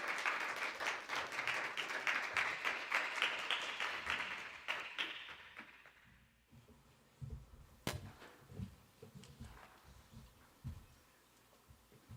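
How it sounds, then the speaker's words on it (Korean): A congregation at a Christmas-season Sunday worship service at Houston Semihan Church claps loudly for several seconds, then the applause dies away. Scattered thumps and small movements follow in a quieter room. "우리 박수를 한번 주십니다"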